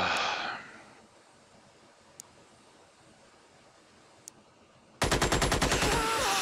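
Rapid burst of automatic gunfire in the squad tactics game Xenonauts, a loud rattling volley near the end after a stretch of quiet ambience with a couple of faint clicks.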